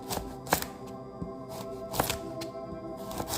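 Knife slicing carrots at an angle on a cutting board, a run of close, regular chopping knocks and crunches about every half second over a dense background hum.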